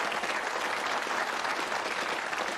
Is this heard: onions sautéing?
no